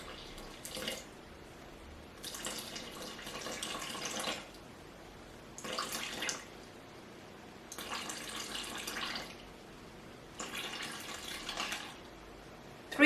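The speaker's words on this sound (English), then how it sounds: "I'm going to add 312 grams, there or thereabouts, of this lukewarm water" Lukewarm tap water is poured into flour for sourdough bread in several short bursts of trickling and splashing, each a second or two long with quiet pauses between, close by and fairly soft.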